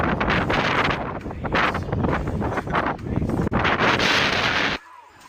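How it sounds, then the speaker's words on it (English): Strong wind buffets the microphone on a windy day at a Sunday league kickabout, producing loud, continuous rumbling gusts that surge and dip, then cut off abruptly near the end. "Again, we have a very bad windy day."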